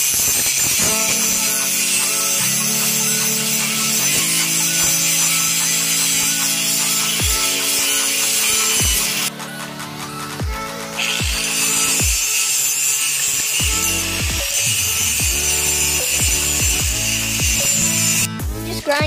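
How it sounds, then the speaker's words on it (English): Grinding down metal pieces for a go-kart footrest, a steady loud abrasive whine running almost continuously, with a brief dip partway through and scraping shifts as each piece is worked. "Grinded all these pieces down"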